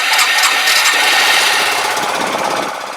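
Yamaha YBR125 motorcycle engine running steadily up close, a loud continuous mechanical idle throughout with no talking.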